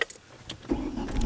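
A car engine cranks and catches during a diagnostic scan-tool check, a brief clicky jangle first, then a low rumble that rises after the start and settles into a steady idle close by.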